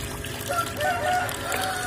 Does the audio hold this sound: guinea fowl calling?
yes